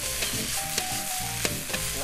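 Green peppers and potato stir-fried in a pan, a close steady sizzle with scraping stirs and a few sharp clinks of the utensil, no voices.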